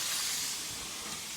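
Rump steak sears in a hot oiled pan, giving a loud, continuous hiss of frying heard close up for a moment.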